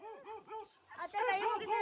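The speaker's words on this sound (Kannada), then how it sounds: "ಅಯ್ಯೋ, ನಾಯಿ ಬಂದ್ಬಿಡ್ತು." A dog on a small farm with chickens, cows and goats barks and yips in quick repeated bursts, close and fairly loud, with a second rougher burst of barking near the end.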